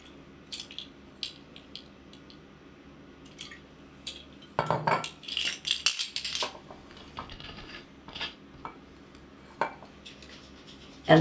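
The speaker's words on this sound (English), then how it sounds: "And I'm just going to mix that up." Vanilla and melted butter are mixed into pumpkin donut batter, with scattered clinks and scrapes of a utensil against a bowl, quiet between bursts and busier in the middle.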